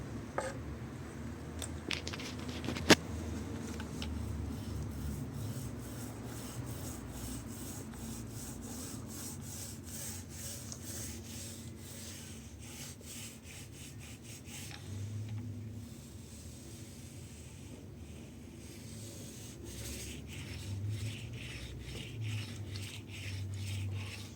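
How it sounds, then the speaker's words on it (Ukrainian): A roller spreads matte polyurethane varnish over a floor, making a continuous soft, sticky rubbing and rolling sound that stays close and fairly quiet, with one sharp click near the start. "Зробив валіком. Другу половинку роблю матовим лаком."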